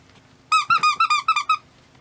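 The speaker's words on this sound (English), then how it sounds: "It's got a squeak. More than likely, it was originally made as a dog toy." A dog-style squeak toy squeezed about seven times in quick succession, each squeak bright, whistling and close, with short pauses between them and near-silence before and after.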